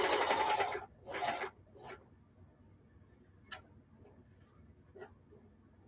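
A sewing machine stitches a short seam on old denim in a couple of brief bursts, then falls quiet apart from a few faint clicks and ticks.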